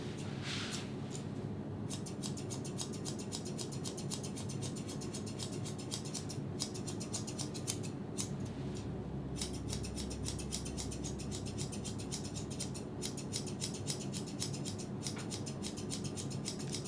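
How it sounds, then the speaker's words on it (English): Steel grooming scissors snipping through a dog's fur, rapid, regular crisp clicks repeating close by, with a few short pauses between bursts of cutting. "These scissors are obnoxiously loud."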